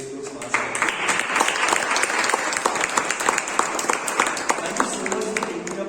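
Loud applause at a Toastmasters meeting swells quickly and keeps going as a dense patter of many hands, with a voice talking underneath.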